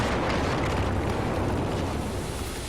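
M320 grenade explosion in Battlefield 4, a loud, dense rumbling blast that fills the whole clip and tapers slightly toward the end.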